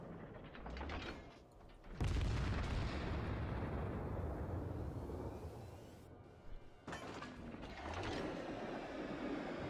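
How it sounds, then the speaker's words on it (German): A World of Warships naval artillery salvo fires with a sudden loud deep blast, then a long rumbling roar of shells in flight. A second heavy report follows near the end. "Deswegen schießen wir einfach mal Proxy darüber."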